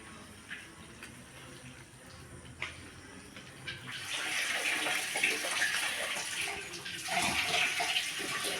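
Water is poured into rice flour batter for making vathal, a soft splashing pour that swells louder midway and continues steadily to the end.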